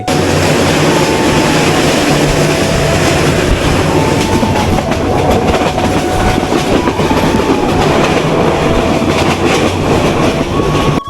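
A train rumbles steadily along the rails with a rhythmic clickety-clack, loud and continuous from start to finish.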